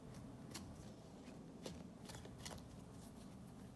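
A deck of non-laminated tarot cards is shuffled by hand, quiet papery riffles and flicks coming in short bursts, close and faint, with no voices.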